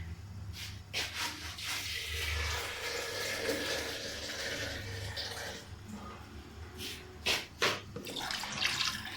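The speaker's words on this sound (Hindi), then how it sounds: "थोड़ा सा और पानी डाल देते हैं" Water pours steadily into a cooking pot of camel meat nihari for several seconds, a continuous splashing rush with a few louder knocks and spatters.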